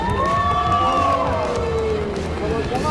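Audience at a global startup event cheering and applauding for St. Peter's School, a loud, steady crowd roar with shouts and whoops, with people talking over it throughout.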